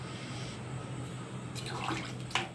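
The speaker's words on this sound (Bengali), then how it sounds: "এবার জলটা দিয়ে দেবো।" Water is poured into a pan of sizzling meat as a Bengali kosha mangsho is cooked, giving a steady wash of pouring and hissing that swells toward the end with a brief splash.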